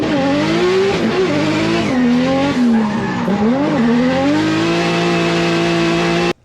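A Toyota JZ-engined drift car screams through a long slide, the engine note rising and dipping under continuous loud tire squeal, close and alone, cutting off abruptly at the end.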